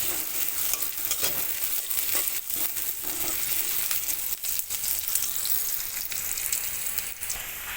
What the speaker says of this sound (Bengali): পেঁয়াজটা বেশি ভাজবো না হালকা ভাজবো